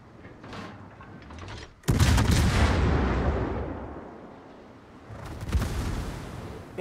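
Naval cruiser guns in a warship game fire a heavy booming salvo that rolls on for several seconds, followed by a second thudding volley, loud and close with brief faint background sounds before.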